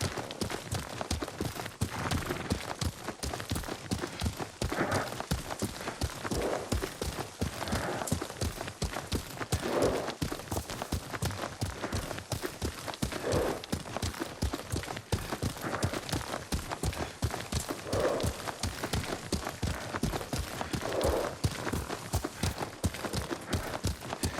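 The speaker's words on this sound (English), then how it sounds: "Lord Sakai taught me to ride a horse." Horse hooves clip-clop steadily at a riding pace in the Ghost of Tsushima video game, a continuous rhythmic beat of footfalls that runs the whole time at a close, even level.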